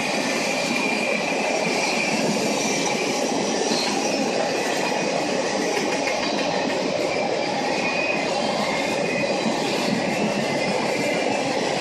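A freight train hauled by a GE Dash 9-40CW diesel locomotive rolls past close by, with continuous loud rumble, rail noise and wheel squeal throughout.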